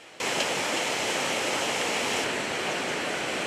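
Raging stream water rushes in a swollen creek during a search for a missing child, a loud, continuous broadband roar that starts abruptly and holds steady throughout with no voices.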